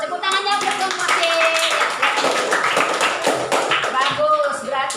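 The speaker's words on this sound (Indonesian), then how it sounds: "Tepuk tangannya untuk kelompok C." A classroom group claps for a presenting student team, a few seconds of brisk, fairly close hand clapping mixed with voices talking over it.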